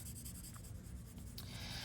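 Pencil shading rubbed and blended across paper, a steady soft scratchy friction heard close and continuous, alone without talk.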